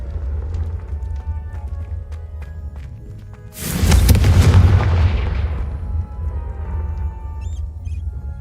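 A Confringo fire spell blast in Hogwarts Legacy bursts out suddenly as a loud, roaring explosion over a low game rumble, then fades away across about two seconds.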